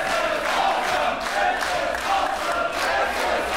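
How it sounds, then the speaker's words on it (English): A wrestling crowd at a live show cheers and shouts steadily, a dense, continuous roar of many voices filling the arena without a break. "And the crowd is enjoying it."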